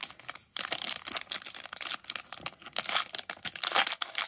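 Panini Contenders MLB and NBA trading card packs bought at Walgreens are torn open, a close, continuous run of crinkling foil wrapper and ripping with uneven bursts and brief pauses.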